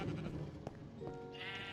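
Minecraft sheep bleat on an AFK sheep farm, a couple of short wavering electronic baa calls close by over a low background hum, with no speech.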